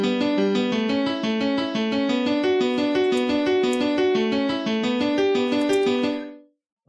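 Dry FL Keys piano from FL Studio with no effects, running a steady arpeggio of evenly spaced notes over sustained lower tones, clean and alone before stopping abruptly.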